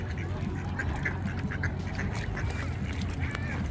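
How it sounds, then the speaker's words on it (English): Several ducks, among them a wood duck and mallard hybrid, quack repeatedly at a feeding spot, a busy chorus of nasal calls over steady outdoor background noise. "My favorite hybrid duck right there. Look how pretty she is. Half wood duck, half mallard."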